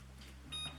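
A kitchen timer gives a short electronic beep as it is set, one bright chirp over a steady low appliance hum, close by and fairly clear.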